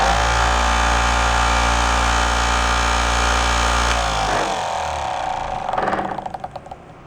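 A repaired Maimin electric cloth cutter runs with a steady mechanical whine and low motor hum, then winds down and coasts to a stop with a few fading rattles at the end.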